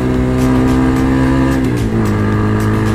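Motorstar Z200s motorcycle engine revving up close, a loud continuous raspy drone whose pitch climbs and then drops as the throttle changes, with no talking.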